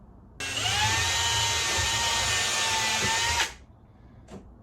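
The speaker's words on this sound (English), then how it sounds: "I'm just going to put a pilot hole through. That one's just plasterboard." A power drill bores a pilot hole through plasterboard in one loud, steady whirring burst of about three seconds. The motor then winds down and a faint brief knock follows in a quiet room.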